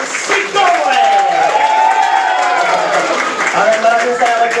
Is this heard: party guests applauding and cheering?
yes